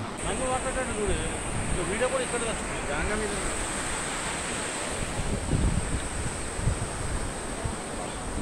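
Continuous rushing water roars nearby at a dam by Pushpa bridge, with gusts of wind buffeting the microphone, and indistinct voices talk faintly over it.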